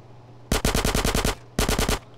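Two bursts of rapid shotgun fire in GTA San Andreas, the first about eight blasts and the second about five, loud and close with a brief pause between them and no talking.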